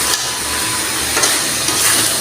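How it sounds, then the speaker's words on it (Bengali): Potatoes tossed into a pan of frying spice masala for an egg curry, giving a loud, steady hiss and sizzle close up, with a few brief scraping stirs of the spatula. "এখন আলুগুলো দিয়ে দিই। আলুগুলো দিয়ে ভালোভাবে নাড়াচাড়া করে নিব।"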